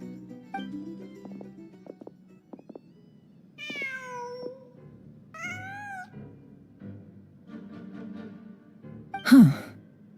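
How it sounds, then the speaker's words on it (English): Cat in the Genshin Impact video game meows several times in short drawn-out calls, close and clear over quiet background sounds, ending in a sharper higher cry. "Just a cat."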